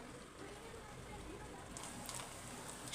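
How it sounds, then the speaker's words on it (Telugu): Kachori pieces frying in hot oil in a pan on a stove at medium flame, a steady broad sizzle and crackle running throughout with a slight swell near the end, with no talking. "ఆయిల్ అయితే వేడైంది. మనమైతే ఇప్పుడు ఒక్కొక్కటి ఇలా వేసుకుందాం. ఇలా వేసుకొని వేయించుకుందాం."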